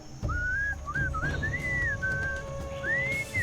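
Melodic whistling in a Sam & Max adventure game, a clear wavering tune in short rising and falling phrases over a low background hum.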